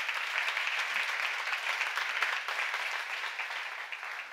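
A church congregation at a Romans Bible seminar bursts into dense, sustained applause that fills the room steadily for several seconds, with no speech over it.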